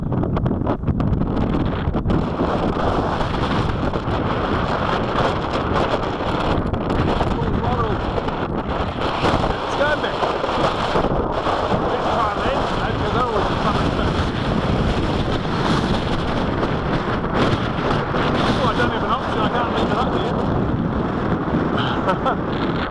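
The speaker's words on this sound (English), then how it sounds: "I think there's quite a bit of wind up there, Ron." Constant heavy wind buffeting a microphone outdoors in strong winter wind while flying foam model planes, a dense roar that never lets up for the whole stretch, with faint talk beneath it.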